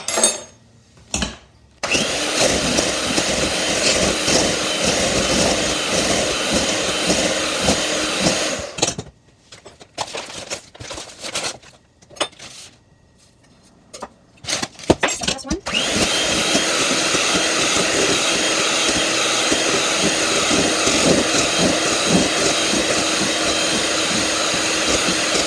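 An electric mixer whipping lemon meringue for a pie: a loud, steady motorized whir running for long stretches, broken by several short stops and restarts midway, with talk at times.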